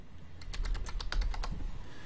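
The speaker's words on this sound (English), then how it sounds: "1 sec, I'm typing." Quick keystrokes on a computer keyboard, a short run of about a dozen soft, close clicks in an irregular rhythm, otherwise quiet.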